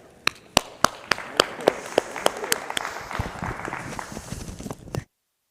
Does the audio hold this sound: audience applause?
yes